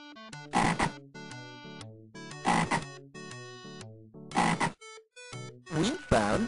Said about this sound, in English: Oh boy, a frog.